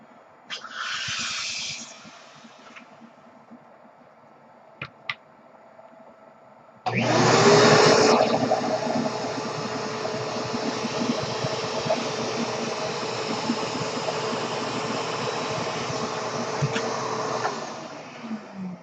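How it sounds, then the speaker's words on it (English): A vacuum cleaner pushing air behind a balloon rocket starts abruptly partway through and holds a loud, steady roar for about ten seconds, then cuts off. Quieter rustles and knocks come before it starts. "So, what happens when we introduce our vacuum to the back of it?"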